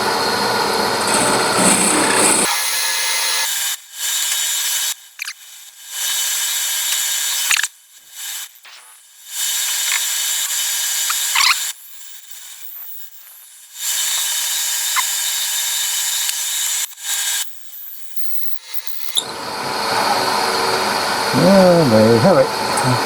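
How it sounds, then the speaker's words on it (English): A power drill bores through wooden pen blanks in several loud, steady bursts separated by short silences, with talk at the start and end. "that's all the drilling done."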